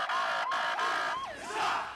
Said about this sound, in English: thousands had filled the square again with loud chants against the military council